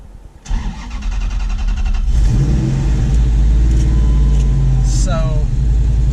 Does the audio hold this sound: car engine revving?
yes